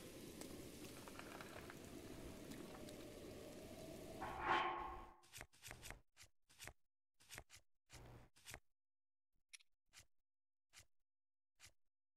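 Steady rain in The Legend of Zelda: Breath of the Wild hisses for several seconds, then cuts off, leaving scattered sharp clicks and taps in near silence.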